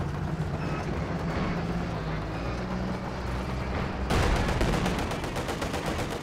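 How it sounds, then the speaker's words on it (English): LMG burst in the real-time strategy game Company of Heroes 2, a rapid rattling volley of automatic fire toward the end over continuous battlefield rumble and a commentator talking. "LMG burst here."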